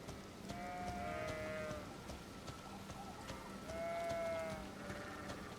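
Sheep in the video game Elden Ring bleat in two drawn-out calls, one early and one later, moderately close, over a steady patter of rain and soft background ambience.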